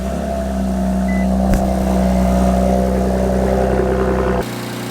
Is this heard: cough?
no